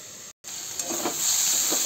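Vegetables frying in white cooking oil for chowmein, a steady bright sizzle that swells slightly toward the end after a brief dropout, with no talking.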